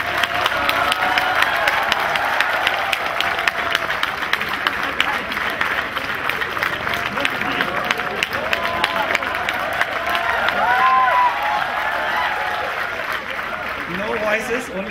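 A crowd at a central university's first convocation ceremony keeps up sustained, lively clapping and some cheering, a dense wash of applause with a few voices mixed in.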